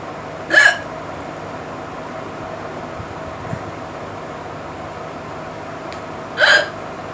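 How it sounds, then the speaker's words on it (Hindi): A woman's loud hiccups sound twice, several seconds apart, each a sharp, abrupt vocal burst over a steady low background hum. "मेरी हिचकी बहुत ही ज़्यादा बड़ी आती है मेरी हिचकी"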